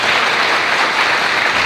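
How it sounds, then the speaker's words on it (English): A crowd claps at the District 25 Community Education Council award ceremony, with thick, continuous applause filling the room at a steady loud level, no speech breaking through during the brief burst. "Let's give them a round of applause, please."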